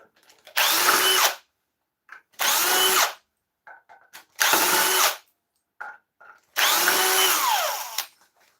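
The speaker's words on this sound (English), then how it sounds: "Drill driver. Otherwise, I'd be here all day trying to unscrew these." A cordless drill driver whirs in four loud, steady bursts of about a second each, unscrewing screws, with small clicks and clunks of screws between them.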